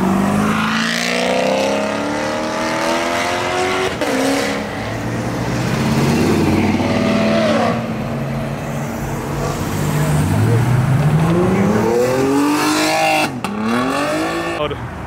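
A homemade car built on a C5 Corvette drives away from a Houston Coffee and Cars show, its engine revving and rising in pitch through several loud, close accelerations with gear changes, under some talk nearby.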